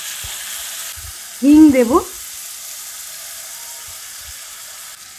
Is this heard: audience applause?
no